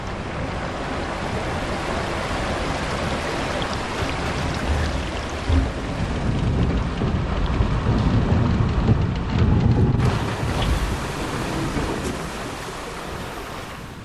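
A big water ride splashdown in Planet Coaster, a loud, sustained roar of crashing and spraying water that swells in the middle and then settles into a continuous wash, with no voices.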